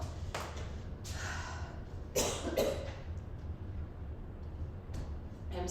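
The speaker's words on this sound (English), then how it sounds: "I'm still getting over this cough." A few soft coughs scattered across a quiet room, faint and close, with a slightly louder pair of coughs in the middle and low background hum.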